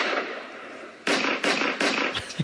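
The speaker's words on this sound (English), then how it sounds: "gun battle" Gunfire in an After Effects gun battle: a few loud, sharp cracks in quick succession over a steady hiss.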